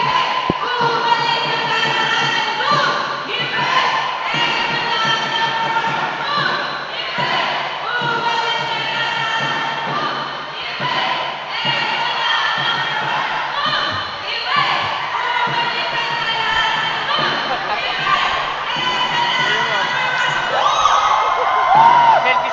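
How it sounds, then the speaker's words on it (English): A sports-event opening ceremony's team cheering competition: a group chants and shouts in rhythmic bursts while the crowd cheers and whoops, the loud voices and occasional thumps carrying on for the whole span and building toward the end. "we have now Aces doing their cheering competition"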